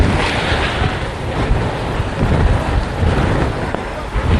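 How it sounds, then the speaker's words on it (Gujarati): Very strong wind from Cyclone Biparjoy buffets the area at Mandvi on the Gujarat coast, a loud, continuous roaring rush with gusty swells and heavy rumble from the wind striking the microphone. "ખૂબ તીવ્ર પવન"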